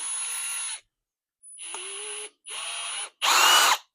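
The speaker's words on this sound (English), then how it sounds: "Take your drill, and I chuck up the axle in the drill" A power drill spins a bent Traxxas UDR axle chucked in it in four short bursts with brief pauses between, a whining motor buzz, the last burst louder than the rest.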